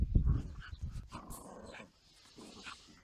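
A dog at home vocalizes close by in short, gruff bursts at the start, followed by quieter rustling and faint movement.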